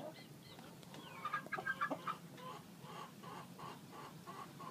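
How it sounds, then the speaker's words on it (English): Chickens cluck in a series of short, uneven calls, with a rooster nearby among the flock, fairly close over a quiet farmyard background. "The big chickens are coming."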